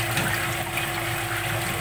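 Water rushing steadily into a sink during the fast-rinse backwash cycle of a home water softener, a continuous loud gushing flow with a low pump-like hum underneath, no voices.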